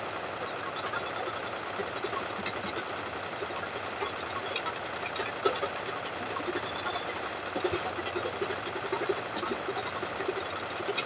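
A home embroidery machine stitches out a design in a long, steady run, its fast mechanical whir holding at an even level throughout with small clicks now and then.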